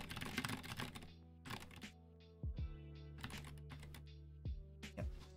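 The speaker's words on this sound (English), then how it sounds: "I have to slam the keys for you guys to hear it." A Mill-Max hotswap mechanical keyboard is typed on with keys slammed hard. Quiet, irregular bursts of clacking keystrokes come with soft low thuds and short pauses between them, close and with no talking.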